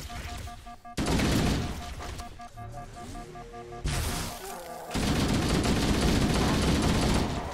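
Bursts of gunfire in the game Halo CE, loud, dense volleys of rapid shots in separate stretches with short gaps, mixed with explosive booms and game music.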